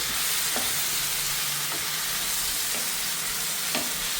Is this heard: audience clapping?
no